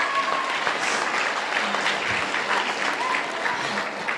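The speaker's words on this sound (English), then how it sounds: "like a round of applause for them." Audience applause for the orchestra at a Bharatanatyam arangetram dance recital, a steady dense wash of many hands clapping that holds evenly for several seconds.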